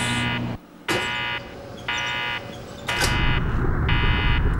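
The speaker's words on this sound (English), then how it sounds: "That means the alarm has to turn off." Alarm in the video game Resident Evil Code Veronica X, an electronic buzzer sounding in loud repeated bursts about half a second long with short gaps, over steady game background noise.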